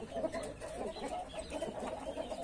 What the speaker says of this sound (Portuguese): Aquela galinha preta ali.